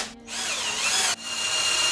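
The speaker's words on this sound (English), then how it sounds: "So now I'm just gonna step drill it up. Start with a small drill" A power drill with a step drill bit bores into a steel bolt head during a clutch change on an Evo 9, whining loudly and steadily at slow speed with a brief dip and restart.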